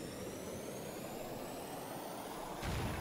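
A throttled-up jet engine in the StormWorks building game holds a steady, dense roar for most of the moment, then swells into a louder, rougher burst near the end as the engine blows up.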